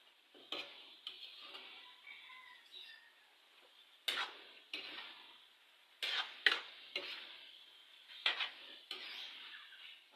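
A utensil stirs and scrapes bitter gourd in a cooking pan, a series of irregular clanks and scrapes separated by quieter gaps, with a faint sizzle underneath.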